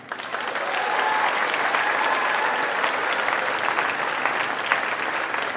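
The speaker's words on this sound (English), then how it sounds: "Big round of applause for Will Kossoff." Audience in a school gymnasium applauding at an all-city band concert, a sustained crowd of clapping hands with scattered cheers, steady and fairly close throughout.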